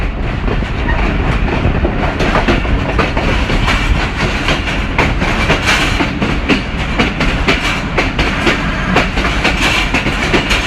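The Hazara Express on an overnight run from Mandi Bahauddin toward Multan rumbles loudly over railway track in bad condition, a dense, continuous roar with rapid rattling clatter of the wheels throughout.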